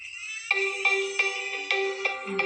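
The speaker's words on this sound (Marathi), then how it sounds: "फोन आला तुला ते" A mobile phone ringtone sounds for an incoming call: a bright, melodic tone that repeats in short, evenly spaced pulses. It plays alone and clearly, with no talking over it.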